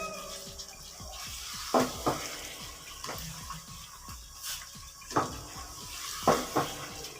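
Tap water runs into a sink while raw chicken is washed for chicken karahi, a steady splashing stream with a few louder clattering knocks, close by and with no talking.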